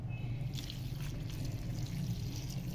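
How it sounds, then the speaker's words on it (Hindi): Water pours steadily into a pot of overnight-soaked lentils, about two cups' worth, a continuous close trickling stream under a low kitchen hum, with no talking. "अब इसमें हमने तकरीबन तकरीबन 2 कप के करीब पानी डालना"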